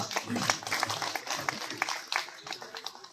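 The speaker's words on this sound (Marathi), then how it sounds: "जोरदार टाळ्या होऊ द्या" An audience at a Ghumat Arati competition applauds a consolation prize winner with steady, moderately loud clapping that has an uneven patter.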